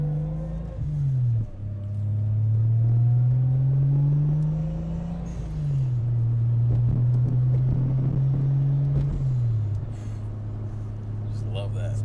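Tuned custom car engine, recently rebuilt with a lingering oil leak, rumbling loud and near with rising and falling revs and a blow-off valve character, while someone talks over it.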